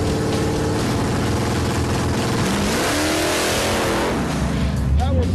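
The Crusher Camaro's engine, fitted with an MSD 6AL-2 ignition, holds a loud, choppy rev-limited drone on the two-step, then its pitch rises sharply near the end as it revs harder.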